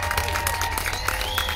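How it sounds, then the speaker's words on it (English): Steady applause from a crowd, dense clapping filling the whole short stretch at an even level. "I'm going to wait till the applause ends"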